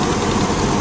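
A John Deere 5405 CRDI tractor with a 63 HP PowerTech engine runs steadily nearby, a continuous loud diesel drone with even low rumble and vibration throughout.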